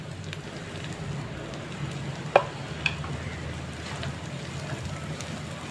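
Steady soft sizzle of carrot, onion, capsicum and cabbage being stir-fried in a pan, with a couple of sharp utensil clinks partway through.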